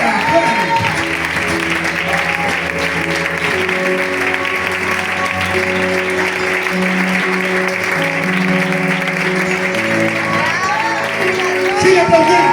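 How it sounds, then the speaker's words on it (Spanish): A Spanish-speaking church congregation applauds steadily throughout, the clapping blended with crowd murmur and tonal music or voices beneath it. "Un aplauso fuerte para Dios"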